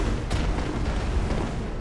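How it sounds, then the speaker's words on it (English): A gun fires in the video game Bloodborne, giving one sharp booming blast early on that rolls into a dense, noisy rumble of game sound for the rest of the moment. "Gunshot!"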